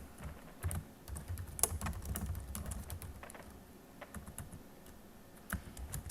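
Quiet, rapid typing on a computer keyboard, soft irregular clicks with a few sharper key taps, close by in a calm room.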